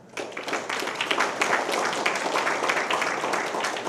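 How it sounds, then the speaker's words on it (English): A round of applause from an audience at an election special event, a moderate wash of clapping that starts abruptly and holds steady, somewhat distant. "please give them a round of applause."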